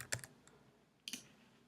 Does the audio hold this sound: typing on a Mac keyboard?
yes